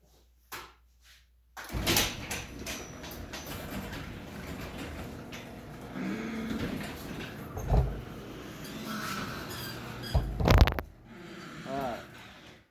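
A garage door slides open with a long rolling rumble, broken by a few heavy clunks and bangs. Some voices can be heard in the background.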